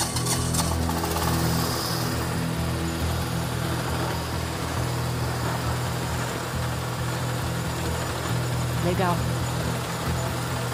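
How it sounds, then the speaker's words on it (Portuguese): A 7 hp diesel engine runs on a gold trommel, a loud steady mechanical drone with low rumbling throughout while people talk over it. "Esse tem um motor diesel de 7 cavalos."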